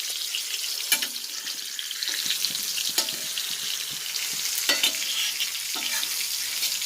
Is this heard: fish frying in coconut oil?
yes